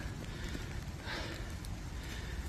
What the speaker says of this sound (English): it's just started to rain quite hard